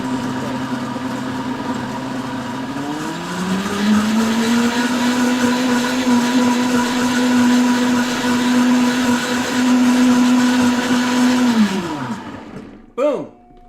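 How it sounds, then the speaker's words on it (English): Countertop blender running steadily for about twelve seconds, its motor pitch climbing as it spins up, then winding down and stopping, blending a heavy metal detox drink; loud and close, with no talk over it. "Let's get this blending up."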